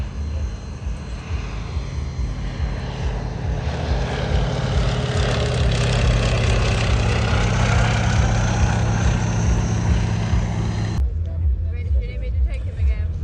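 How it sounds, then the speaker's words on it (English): An aeroplane in a patriotic colour scheme flies a side-slip pass down the display line at an air show, its loud propeller engine drone steady and close, then cutting off abruptly near the end, with a commentator talking over it. "Coming in with an initial side slip down the display line, showing you the patriotic colour scheme on this aeroplane."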